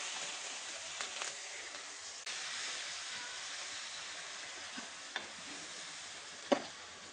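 Chopped onions, a whole bowlful, frying in hot oil for a fish curry with sesame paste, a soft continuous sizzle broken by a few faint clicks of stirring and one sharper knock near the end.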